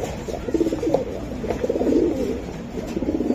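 Racing pigeons at close range give a run of low, bubbling coos that swell and fade in waves, steady and unaccompanied by speech.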